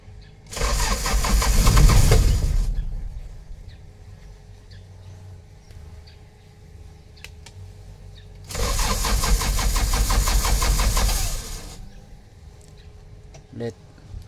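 A Toyota Land Cruiser J40 engine cranks and fires up twice, each start a loud burst of cranking and catching that settles into a rough idle before cutting off, with a quieter gap in between.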